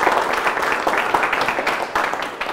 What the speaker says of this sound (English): Let's clap for everyone, ourselves.